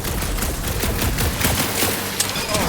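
Rapid bursts of gunfire aimed at a gunked-up reactor in the Guardians of the Galaxy video game, loud and dense with repeated shots throughout, mixed with game ambience and a faint voice.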